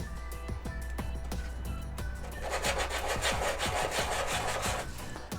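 Damaged socket of an Archer soldering iron, run over by a car, rubbed flat against a surface: rhythmic scraping strokes, close and steady, growing into a denser, harsher rasp midway.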